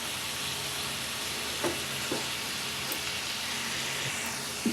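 Slit eggplants fry in hot oil in a pan for crab curry, giving a steady, moderate sizzle with a few soft clinks and stirs.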